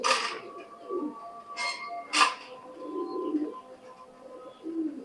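Imported-bloodline high flying pigeons cooing in soft, repeated low calls close by, with a few brief higher chirps and clinks between them and no talk.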